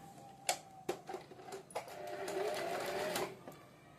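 Sewing machine stitching a straight seam across pleated salwar fabric, heard as a steady close mechanical whir with several sharp clicks and knocks as the cloth is positioned.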